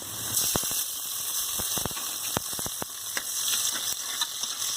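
Onions, tomatoes, cinnamon, cloves and curry leaves sizzling in hot oil for chicken gravy, a steady close frying hiss broken by sharp crackles and pops throughout, with no talking.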